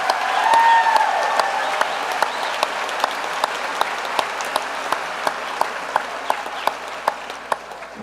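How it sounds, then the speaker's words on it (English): Audience at a 2017 evening of recognition ceremony applauding Latin honors students, steady broad applause from a large crowd with distinct sharp claps popping out at a regular rhythm near the microphone, slowly thinning toward the end. "Let's give all of our Latin honors students a round of applause."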